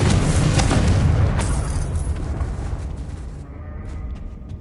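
In a Harry Potter video game, a Confringo blasting spell detonates with a heavy, loud boom right at the start, followed by a sustained rumble that slowly thins and dies away over several seconds.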